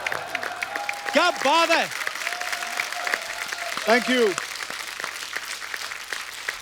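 Studio audience applause for a guest on The Kapil Sharma Show makes a steady wash of clapping under speaking voices and a brief sung or drawn-out vocal exclamation.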